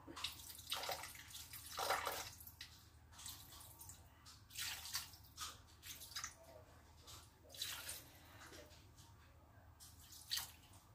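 Water poured in several slow splashy bursts into a food processor bowl, 200 g measured out while preparing Chinese vermicelli with garlic sauce; close and fairly quiet, with small drips between pours.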